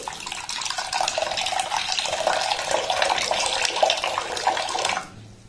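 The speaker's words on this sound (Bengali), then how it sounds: "এবার এখানে দিয়ে দেব জল।" Water is poured from a tap onto one cup of raw atap rice in a bowl for washing, a steady close splashing stream for about five seconds that then stops, with no talking.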